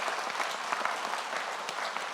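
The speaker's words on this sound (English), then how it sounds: "Ladies and gentlemen, a big round of applause for our top 11 candidates." An audience at a high school valedictory claps in a dense, sustained round of applause that holds steady for the whole stretch without a break.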